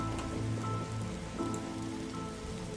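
Rain falls steadily in The Darkside Detective game, a constant patter of drops on surfaces with no voices.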